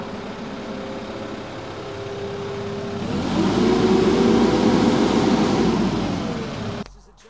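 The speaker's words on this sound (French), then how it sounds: "Enfin le moteur va monter en tour tout seul." A concrete mixer semi-trailer truck with a 12 m³ drum hums at idle, then its engine revs up by itself in automatic mode, holding a loud, steady high roar for several seconds before cutting off abruptly.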